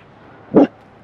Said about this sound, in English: No need to bark.